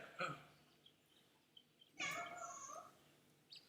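An indoor cat gives a short meow, then a longer drawn-out one a couple of seconds later, both faint and close against quiet room tone.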